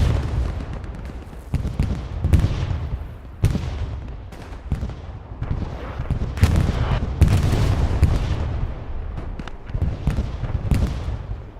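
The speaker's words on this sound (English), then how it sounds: "Where's this Katushka landing? Yeah. It's a Katushka." Katyusha rocket artillery landing in Hell Let Loose on a night Kharkov map: repeated heavy blasts at irregular intervals, some near and loud, others more distant, with rumbling between the impacts.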